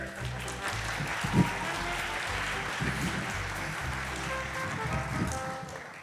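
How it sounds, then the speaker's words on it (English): A crowd applauding steadily, a dense wash of clapping that holds at an even level throughout with a few louder claps standing out. "give a round of applause for Mr. Bert and Squirt"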